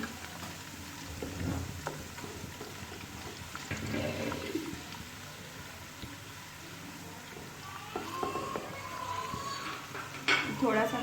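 Garlic and ginger paste fries in a pan with a steady close sizzle, marked by occasional scraping stirs and a louder crackle near the end, while someone talks over it.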